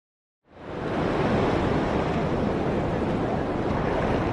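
Surf breaking at Surf City beach in El Salvador rises from silence into a loud, steady broadband roar of waves and wind, with no voices.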